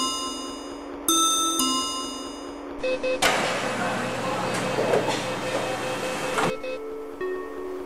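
Simulated metro train doors closing in the OpenBVE train simulator game: chime tones, then a loud hissing, rumbling door motion lasting a few seconds before stopping with a thud, while a recorded announcement voice speaks.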